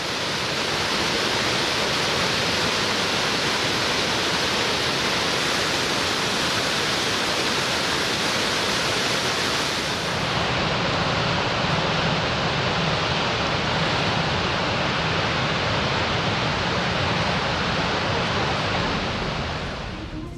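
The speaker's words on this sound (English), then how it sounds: "These falls were spectacular, but didn't have the volume of water that the Rhine Falls had in Switzerland." A waterfall in the Austrian Alps roars steadily as a dense, continuous rush of falling water, loud and unbroken throughout with no voices.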